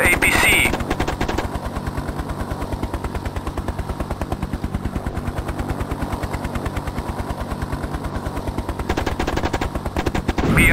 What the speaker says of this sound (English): Turret gun armed. Firing now.